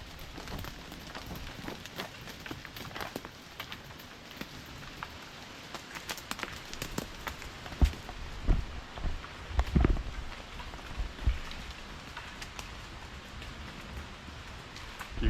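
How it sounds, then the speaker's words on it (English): Scattered hard taps and thumps of acorns falling from trees patter down irregularly onto leaves and ground, thickening into a brief flurry midway before thinning out again. "all the acorns fall out of the tree like a rain"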